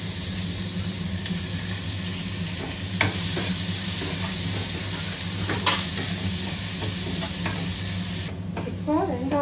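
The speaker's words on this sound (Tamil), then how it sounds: "அடுத்து வெங்காயம் கருவேப்பிலை போட்டு வதக்குறேன்" Onions and curry leaves sautéing in a pan with dried red chilies for a carrot and beans stir-fry, a loud continuous sizzle broken by sharp scraping stirs and spatula clinks, with brief voice near the end.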